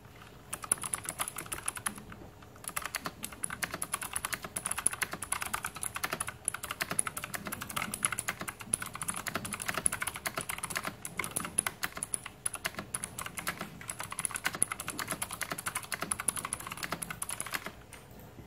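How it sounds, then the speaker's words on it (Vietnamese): Steady typing on a mechanical optical RGB keyboard with brown-labelled switches that click like blue switches; rapid, even keystrokes continue for the whole stretch with brief pauses, close and moderately loud, no talking. "con này mặc dù là cái switch của hãng nó ghi hình màu nâu giống như là Pro Switch thôi, nhưng mà tiếng gõ của nó vẫn là tiếng giống Blue Switch"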